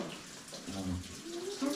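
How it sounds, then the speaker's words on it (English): Cold water flowing steadily inside a crystal cave, a continuous close rushing and trickling wash with faint bubbling, while people talk quietly underneath. "I've never seen water stop flowing here either."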